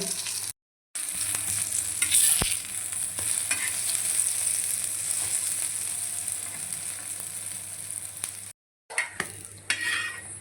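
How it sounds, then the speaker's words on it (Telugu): Large brinjal slices sizzle in a frying pan, a constant crackling hiss with occasional utensil clinks and two brief silent breaks. "ఇట్లా రెండు వైపులా కాల్చుకోవాలన్నమాట"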